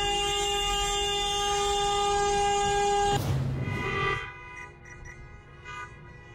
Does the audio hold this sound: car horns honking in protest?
yes